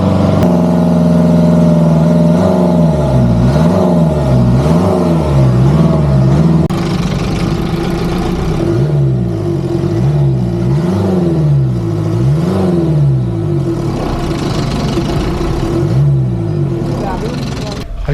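A diesel engine, just restarted and suspected of running on stale fuel, revs up and down in repeated swells, loud and close, its note rising and falling in waves while people talk nearby.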